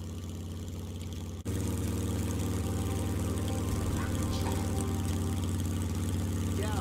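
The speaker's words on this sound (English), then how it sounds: "Is the motorcycle too loud, guys?" A motorcycle engine in the survival video game SCUM idles with a steady low drone, briefly dipping before settling into a constant, loud, even hum with no talking over it.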